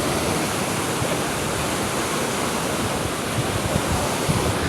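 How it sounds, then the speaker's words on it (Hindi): Water rushes hard through a large canal, a loud, steady broadband roar that stays constant and close throughout with no voices. "ये पानी बड़े ज़ोर शोर में आ रहा है।"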